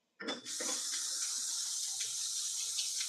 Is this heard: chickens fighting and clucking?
no